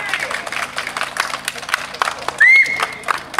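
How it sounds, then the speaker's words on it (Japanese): Crowd at the opening of the 2023 Hakkō Nebuta association gathering breaks into a scattered burst of clapping and cheering for a few seconds, with voices mixed in and a short whistle-like tone near the end. "はい、拍手。"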